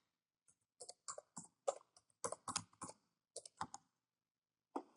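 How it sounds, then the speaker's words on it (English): Keys tapped on a computer keyboard while entering an administrator account name and password during a Windows 10 installation, heard as quick, close clusters of clicks in uneven bursts with short pauses, alone and fairly quiet. "We're going to type the administrative password, or we're going to type the administrator account."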